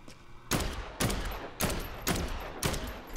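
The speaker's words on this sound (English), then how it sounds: "I'm just gonna shoot." Rapid bursts of gunfire from the zombie video game Dead Island 2, five loud, evenly spaced volleys each ringing out briefly before the next.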